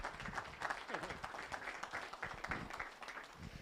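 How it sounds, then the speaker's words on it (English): Applause for the crew at a Thunder Hill Speedway banquet, a scattered round of clapping from a modest crowd indoors, heard faint and somewhat distant under the room's ambience. "a big round of applause"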